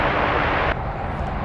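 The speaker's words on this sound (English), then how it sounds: "American Flight 80 to London Heathrow, going the other direction, 777-300ER, here it goes." An American Airlines Boeing 777-300ER taking off at DFW, a loud broadband jet engine roar that drops sharply partway through and then continues as a steady rumble.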